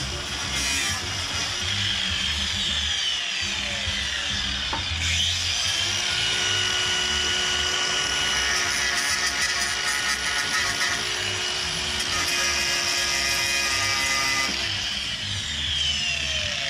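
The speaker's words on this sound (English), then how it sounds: "I'm grinding wood" A grinder cuts into wood during a 4WD snow camping trip, a loud continuous high-pitched whine with rough grinding noise that changes pitch a few times as pressure shifts.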